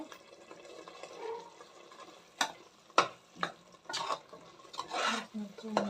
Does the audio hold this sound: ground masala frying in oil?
yes